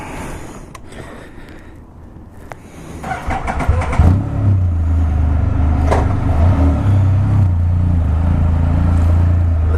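A Can-Am Spyder RT three-wheel motorcycle cranks and fires up after a few quiet clicks, settling into a loud, steady low engine rumble up close.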